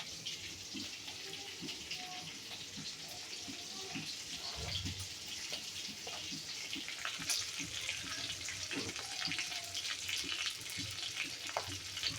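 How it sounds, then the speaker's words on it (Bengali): Chicken meat and liver sizzling and crackling steadily in hot oil nearby, with occasional stirring scrapes and a brief low voice in the background. "আর এখানে আরো হইতেছে ভাজা, কলিজা আর গেল মাংস, শুধু পিস মাংসগুলা।"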